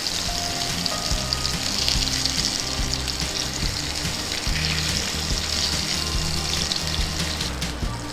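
Fish masala fry sizzling steadily in a hot pan, a dense continuous crackle of oil that stays loud and close throughout, with faint stirring and water-like hiss beneath and no talking.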